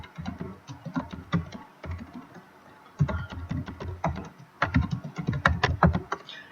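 Typing on a computer keyboard while entering spreadsheet text, with bursts of quick, close key clicks in uneven clusters separated by brief pauses, no voice over it.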